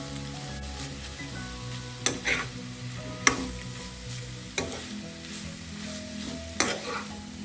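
Koorkka (Chinese potato) thoran stir-frying in a pan: a continuous close sizzle broken by four or five sharp scraping clanks of a spatula against the pan at irregular intervals.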